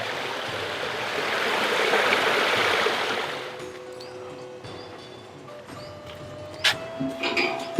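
Clear spring water runs down in a steady, close rushing flow near a shrine in Soon Valley, Khushab. It grows quieter partway through, and faint scattered knocks follow.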